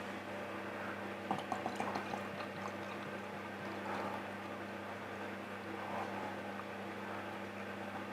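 Tynt Meadow Trappist beer, a dark mahogany ale, pours from the bottle into a glass with a soft, steady liquid gurgle and faint fizzing over a low background hum.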